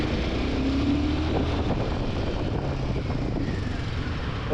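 Royal Enfield Himalayan 450 motorcycle engine runs steadily while riding, a loud, constant droning hum with wind rush and faint tonal whines rising briefly.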